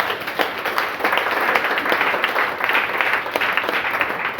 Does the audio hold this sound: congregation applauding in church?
yes